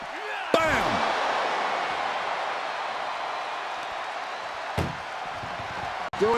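Ambulance door slamming shut during an ambulance match in the WWE 2K24 wrestling video game: a sharp bang, a second heavy thud a few seconds later and a final hard knock, all over a constant arena crowd roar.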